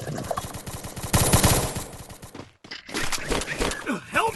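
Rapid bursts of gunfire crack from a shooting video game, a dense volley near the start, then a short gap before more shots resume, with excited voices reacting in the background.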